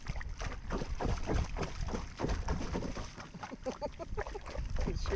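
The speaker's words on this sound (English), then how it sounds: "motorboat." Motorboat passing a kayak on the water off Matagorda, a steady distant engine drone mixed with wind buffeting and water sloshing against the hull.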